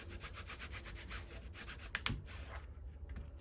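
Wet cardstock rubbed by hand to emboss it, with black soot used in the process, giving a steady series of rhythmic scratchy strokes up close, followed by a brief sharper scrape and a quieter tail.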